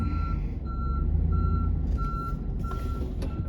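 Reversing beeps from a snow plow truck backing out onto a main road ring as a steady series of evenly spaced high tones. A low, constant diesel engine rumble runs beneath them.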